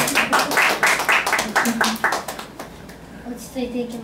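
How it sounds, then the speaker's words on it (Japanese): Live-show audience in a small studio gives a burst of quick, rhythmic clapping from several people, loud and close, which fades after a couple of seconds into speech. "嫌な会にお越しくださった皆さんに大きな拍手"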